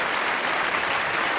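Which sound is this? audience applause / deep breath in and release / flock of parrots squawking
audience applause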